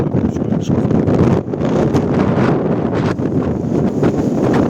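Strong wind with rain on Helgafell mountain in extreme weather buffets the microphone in a loud, continuous roar with gusty surges and rumbling low-end, no voices heard.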